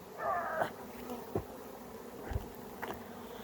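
Honeybees buzz close by at a hive, with a few louder passes flying near and away over a faint steady background hum.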